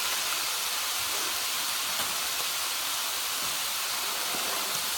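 Meat for a Thai basil stir fry sizzles in a hot pan, a loud, steady hiss that holds evenly throughout without any speech.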